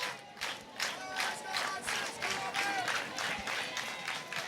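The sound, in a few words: stadium crowd cheering and applauding at a college softball game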